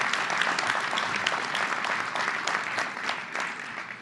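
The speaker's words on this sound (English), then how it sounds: "Let's give him another round of applause, Speaker Sheldon Silver." Steady, dense applause from a large gala audience honoring Speaker Sheldon Silver, continuous close clapping that holds for several seconds with a faint murmur of voices beneath.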